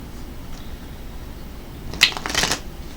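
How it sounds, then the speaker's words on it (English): Tarot cards riffle and snap together in a couple of quick bursts near the end, following a stretch of quiet room noise. "let's go ahead and shuffle these up real quick and pull some cards for you"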